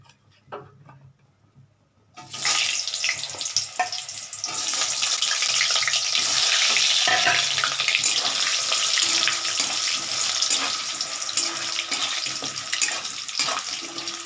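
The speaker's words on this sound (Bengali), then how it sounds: "তেলটা গরম হয়ে গেছে আমি আলু কটা একটু ভেজে নিচ্ছি" Potato pieces dropped into hot oil, a few quiet handling sounds before a loud, steady, close sizzle bursts in and continues to the end, with no voices.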